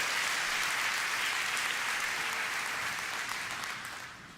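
A church congregation applauds during a Portuguese-language service, a dense and loud wash of clapping that holds steady before tapering off slightly at the end.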